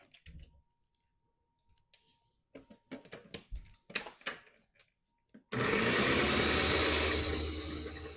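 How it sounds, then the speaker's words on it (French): A blender whirs into a loud, steady roar partway through, mixing a Caesar-style dressing with Dijon mustard for a chicken pizza crust, after a run of clicks and clatter from handling the machine and faint talk. "Là, on va reblender ça."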